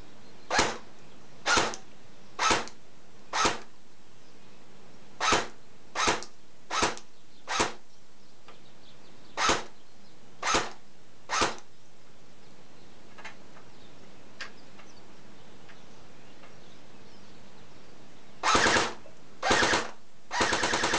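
A G&G Combat Machine AK47 airsoft gun, on a half-charged battery with 20 g BBs, fires about a dozen single semi-auto shots in a loose rhythm, then several short automatic bursts near the end; close and loud with no talk.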